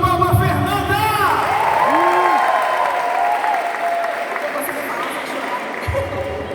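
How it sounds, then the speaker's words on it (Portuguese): Loud audience applause with cheering and whoops at a prayer group seminar, dense clapping from a crowd, with excited voices shouting over it and fading slightly near the end. "Uma salva de palmas, Fernanda!"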